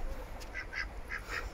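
A duck living among chickens quacks outdoors in a few short nasal bursts, at moderate distance, over a low steady background hum.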